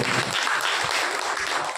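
A church congregation at a Sunday worship service claps together in a brief, even burst of applause, close and sustained without any talking.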